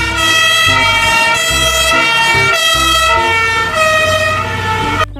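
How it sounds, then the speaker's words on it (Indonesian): Toy fire truck siren blaring loud and close, a steady electronic wail with a repeating pulse roughly every second and no voices over it. "Mobil pemadam kebakaran."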